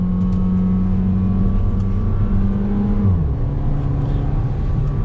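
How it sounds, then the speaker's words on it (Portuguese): A 2023 Fiat Pulse Abarth 1.3 turbo with automatic gearbox is held at high revs while driving in the rain: a sustained, loud engine drone with steady tones that shift pitch partway through, and no talking. "Vou manter o giro alto aqui."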